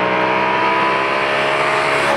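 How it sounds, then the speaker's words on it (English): Audi 4.2 V8 engine breathing through a stock exhaust with the resonator deleted, a loud, steady, close-up drone with a rich low growl and no voices. "it's a stock exhaust, simply with a resonator delete"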